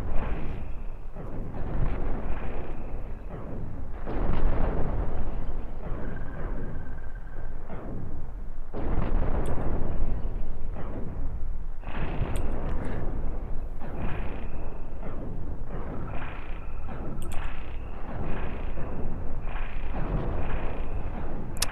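Cannon fire and explosions in a space battle in the starship game Cosmoteer: repeated heavy booming blasts with rumbling tails, loud and continuous over about twenty seconds, some hits overlapping.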